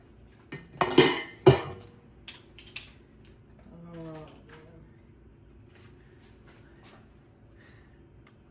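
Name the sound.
canning jars being lifted out of a water bath canner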